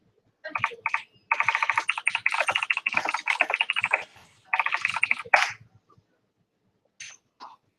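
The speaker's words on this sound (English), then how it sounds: "let me go ahead and type that out" Computer keyboard typing during an online class session, bursts of rapid close key clicks in several runs separated by short pauses, with a couple of faint taps near the end.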